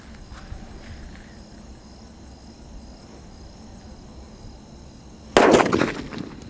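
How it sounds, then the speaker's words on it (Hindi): A cement bomb firecracker goes off outdoors during Diwali, with crickets chirping for several seconds before a single sharp, loud bang and a brief crackling rumble that fades. "काफी खतरनाक चलता है हमारा सीमेंट बम।"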